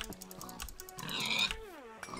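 Pigs in the video game Minecraft grunt and oink in a short burst, with a squealing, rising call near the middle over a busy game background.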